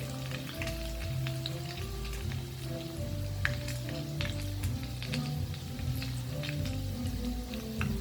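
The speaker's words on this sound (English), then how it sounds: "So now on slow fire, let this get nicely fried." Chicken lollipops frying in oil over a slow fire, a steady crackling sizzle with scattered pops over a low humming background, close and unbroken, without speech.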